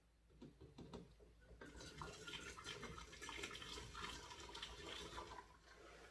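Liquid pours through a sanitised funnel into a sanitised flask for a yeast starter, a close, steady splashing and gurgling stream that builds after a few faint knocks and continues to the end.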